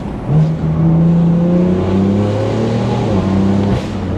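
A BMW M4 with a stage 2 tune and downpipe pulls hard under acceleration, a loud steady engine drone climbing in pitch through the gear, heard close from inside the car.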